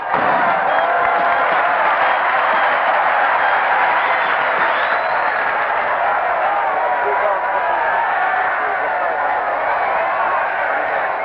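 A huge crowd at the finish line of a 1962 world championship ski race gives sustained applause and cheering, a dense, continuous roar that stays loud throughout.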